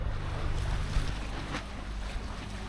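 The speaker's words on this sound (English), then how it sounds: "you can hear we're running a generator and water maker" A generator and water maker running aboard a Lagoon 51 catamaran, a steady low droning hum with a broad wash of noise over it, continuous and fairly loud, close by.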